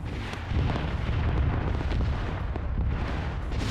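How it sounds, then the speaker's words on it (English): An aircraft airstrike pounds a hill in a military video game, producing a continuous heavy rumble of blasts and explosions that grows louder after a brief opening. "Now you hear the aircraft. Annihilating that hill."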